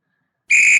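A referee's whistle in a football video game, one short sharp blast that starts abruptly and cuts off cleanly after a moment.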